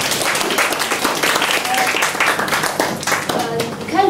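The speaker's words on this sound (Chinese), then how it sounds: "大家鼓掌" Audience applause welcoming a guest speaker at a design-thinking salon talk, a dense steady clapping from a room of people lasting several seconds, close and loud with some overlapping voices.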